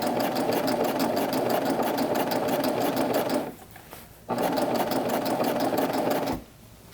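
A sewing machine runs close up while stitching gathered skirt fabric, with fast, even mechanical chatter in two long bursts separated by a brief pause.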